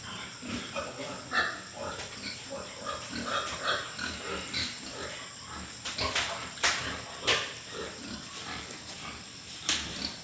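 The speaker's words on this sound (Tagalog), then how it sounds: "hinuhuli na ang Mama Pig" Pigs grunting and squealing inside a crowded farm pen while the sow is being caught, a busy jumble of animal cries with sharp louder squeals breaking out over constant shuffling and chatter.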